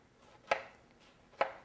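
A knife dices fresh tomatoes with two crisp, close chops about a second apart, each landing on a board in a quiet kitchen.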